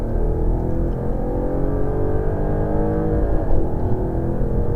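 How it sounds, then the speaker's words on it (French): An Audi R8 accelerates hard down a racetrack straight on a driving course, its engine a loud, steady, close roar with rising harmonics that holds throughout, with no voices over it. "commence à débraquer et accélère très fort dans la ligne droite"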